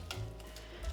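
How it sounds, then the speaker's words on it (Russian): A hand whisk beats eggs with salt and vanilla sugar in a bowl, a continuous scraping, swishing sound with light rhythmic clicks against the bowl and no voices. "Я работаю без миксера, при помощи венчика."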